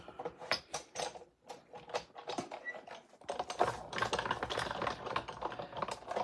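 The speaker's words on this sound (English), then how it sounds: "then we're just gonna run that through the die cut machine" Paper held in taped dies is run through a crafting die cut machine: quiet, irregular clicking and ticking from close by, growing into denser rattling clatter in the second half.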